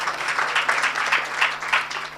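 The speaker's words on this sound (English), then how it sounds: "Give them also a very warm round of applause." A seated crowd at a mosque lecture claps warmly, the many-handed applause even and sustained over a faint steady hum, heard from a short distance.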